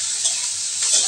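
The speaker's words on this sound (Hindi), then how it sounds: "और प्याज को हल्का भूनते हैं" Onions frying in leftover oil in a pan, a steady close sizzle with scraping stirs near the start and end, no voices.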